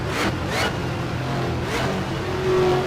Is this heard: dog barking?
no